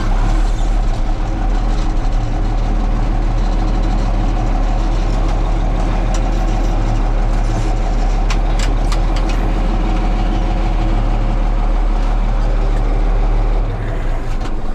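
A John Deere 7520 tractor's big diesel engine runs steadily at idle, a loud, deep, constant rumble with a low throb, heard up close with no talking over it.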